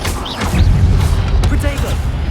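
A fire spell is cast in Hogwarts Legacy, a dense low rumbling whoosh and boom that swells and sustains for about two seconds beneath game effects, with no clear separate bursts.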